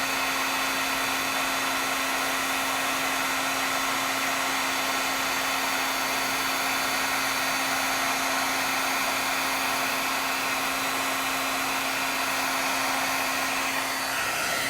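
A heat tool runs steadily at close range as it melts embossing powder on a card, a constant airy whoosh with a fixed motor hum that holds without pause.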